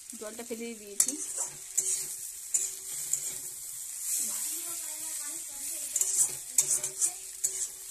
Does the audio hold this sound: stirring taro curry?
yes